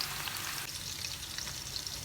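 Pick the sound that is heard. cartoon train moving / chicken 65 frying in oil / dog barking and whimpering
chicken 65 frying in oil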